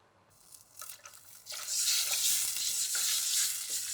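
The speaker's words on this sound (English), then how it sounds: "So some chicken stock." Liquid, water followed by chicken stock, pours into a pot of Thai red curry soup, starting quiet and building into a steady rushing splash and sizzle that holds to the end.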